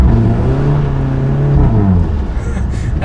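Stage 2 Volkswagen Golf R engine roaring loud and steady under full throttle in snow, all four wheels spinning, the pitch rising then dropping off toward the end.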